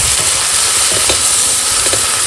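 Chicken fries with turmeric and chili powder while being stirred, producing a loud, dense, close sizzle with a few soft scraping strokes.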